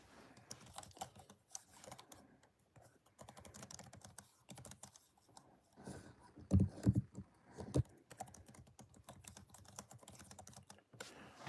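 Computer keyboard typing in bursts of rapid key clicks with a few heavier strikes, close and fairly clear, with no talk over it.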